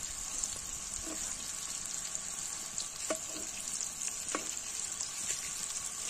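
Chicken pieces frying in a pan outdoors on a forest hillside, a constant crackling sizzle with a few scraping knocks as they are turned; no talking.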